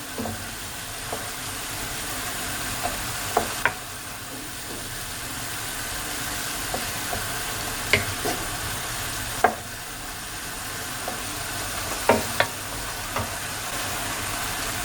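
A metal spatula scrapes and taps now and then against a pan of instant noodles being stir-fried, over a steady, soft sizzle of frying.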